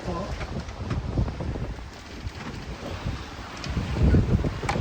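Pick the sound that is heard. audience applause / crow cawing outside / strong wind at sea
strong wind at sea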